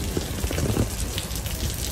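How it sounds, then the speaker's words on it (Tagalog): Steady hiss of rain falling nearby, an even, continuous wash of noise with no voices. "Ayan, umuulan pa."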